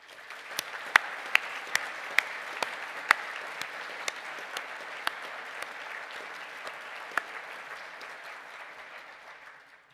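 Graduates at a ceremony are applauded with a broad, even wash of clapping, several sharp individual claps standing out near the front, and the sound gradually tapering toward the end.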